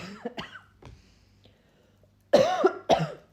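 Several harsh coughs, a couple of quieter ones early on, then two loud, close bursts near the end.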